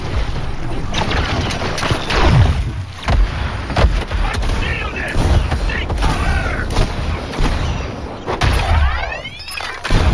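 Explosions and gunfire in the video game Suicide Squad: Kill The Justice League, with loud repeated booms and cracking blasts in quick succession over a continuous battle din, with occasional voices.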